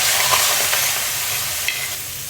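Rohu fish pieces fry in hot oil with a loud, dense, continuous sizzle and a few faint clinks from a utensil, close by and with no talking.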